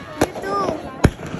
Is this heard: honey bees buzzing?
no